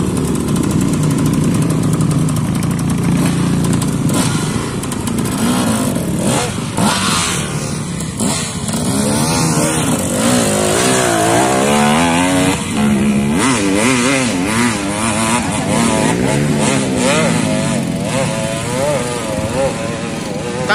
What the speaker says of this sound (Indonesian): Mau tancap gas tanjakan